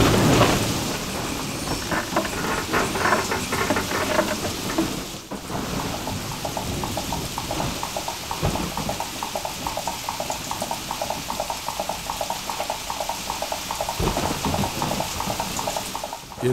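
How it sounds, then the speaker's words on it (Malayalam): Heavy rain pours down steadily with rumbling thunder rolling through it. The loud downpour stays dense, and a deep crack of thunder lands partway through. No voices are heard. "എൻ്റെ ജീവിതത്തിൽ ഇത്രയും വലിയൊരു മഴ ഞാൻ കണ്ടിട്ടില്ല"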